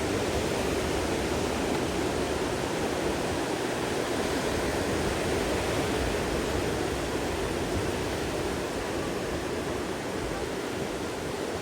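Sea waves washing on the shore, a loud continuous roar of surf filling the whole stretch, steady and close with no voices over it.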